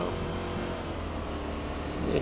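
A forklift engine in a video game revs and climbs steadily in pitch, a continuous mechanical drone with a car-like whine throughout.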